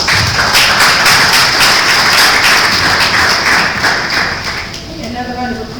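A room of attendees at a tech presentation applauds, loud rapid clapping that thins out near the end as a voice begins.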